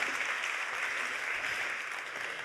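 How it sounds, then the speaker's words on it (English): Sustained audience applause fills a conference hall at a European soil mission event, a dense, even wash of many hands clapping at steady volume throughout. "a big round of applause"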